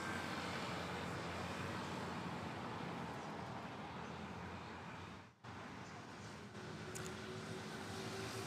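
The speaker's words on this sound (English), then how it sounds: "It's Air Asia arriving from Katiklan." An AirAsia airliner arriving at Manila airport makes a broad, steady engine roar that fills the whole stretch. A brief dropout comes partway through, and a faint tonal whine follows it.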